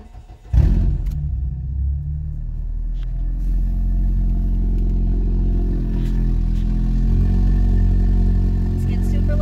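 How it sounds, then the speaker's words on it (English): A car engine with its catalytic converter missing cranks and starts, then settles into a loud, deep, rough rumble that holds steady and booms inside the cabin. "Here is what the vehicle sounds like inside when you start the engine."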